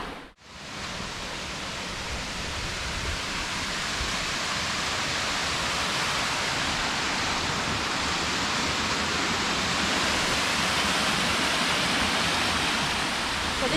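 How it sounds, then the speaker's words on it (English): Big Branch Falls, a waterfall on a hiking trail in Virgin Falls State Natural Area, Tennessee, roars as a steady, loud broadband rush close by, unbroken from start to finish with no voices. "So this is our first marked waterfall."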